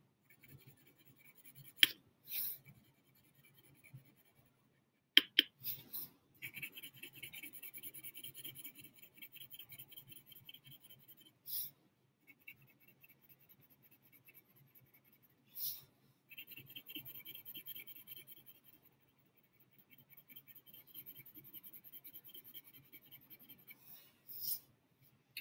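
Coloring on paper with colored pencils or crayon, quiet scratchy strokes coming in repeated bursts of steady back-and-forth rubbing separated by pauses, close and faint, with no talking.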